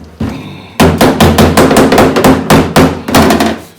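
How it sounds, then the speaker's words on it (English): Loud, close metallic hammer blows strike sheet metal held on a dolly in a steady, fast rhythm, about a dozen ringing hits with no talking. "hit around the dolly so that you're pounding the metal down"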